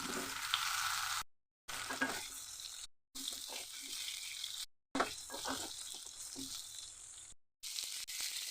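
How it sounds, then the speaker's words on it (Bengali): Pointed gourd pieces coated with salt and turmeric fry in hot oil in a kadai, giving a steady close sizzle broken by a few short silent gaps, with light stirring clatter and occasional splashes. "নুন হলুদ মাখানো পটলগুলো ভেজে নেবো।"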